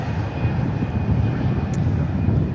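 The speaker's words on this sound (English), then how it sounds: "here's our E175 from Fargo" An Embraer E175 airliner arriving from Fargo lands at DFW International Airport, its engines giving a steady, loud broadband roar that holds constant throughout, with no talk over it.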